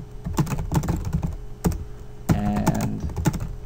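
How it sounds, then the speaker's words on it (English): Rapid clicking keystrokes on a computer keyboard, close and fairly loud, in irregular bursts with a brief pause midway, a few heavier key presses standing out; no voices. "So I'm going to type enter a number"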